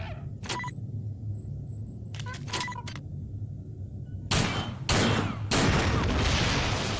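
Gunfire aimed at a mutant in System Shock 2 from a gun in poor condition: a few sharp isolated shots early on, then three loud booming blasts near the end over a low ambient hum.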